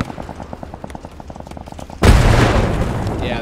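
A loud grenade blast in a video game cuts in sharply partway through, a broad roaring burst that lingers, following a stretch of steady rapid gunfire.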